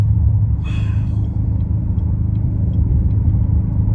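A sleeper build car accelerating hard, heard from inside the cabin. A loud, steady low engine rumble holds throughout, with a brief hissing burst near the start.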